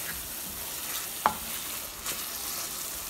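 Creamy boneless chicken handi is stirred in a pot on a high flame, a soft steady sizzle with one sharp spoon knock and a faint scrape following.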